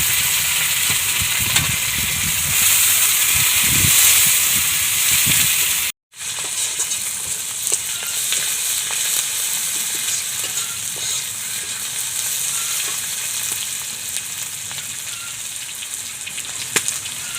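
Bay leaves, onion and curry leaves fry in hot oil for a fish curry, giving a loud, steady sizzle and hiss with occasional stirring scrapes and a brief cut partway through.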